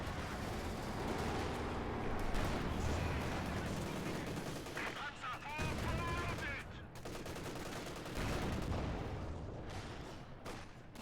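Machine gun fire in a World War II strategy video game, with a .50 cal defending against a Panzer IV attack, heard as dense continuous bursts and booming gunfire mixed with other battle noise throughout.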